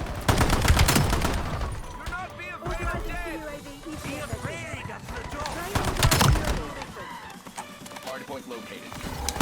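Gunfire in a Hardpoint match of a first-person shooter video game, with bursts of rapid shots and scattered single cracks mixed with game sound effects, under a player's ongoing speech.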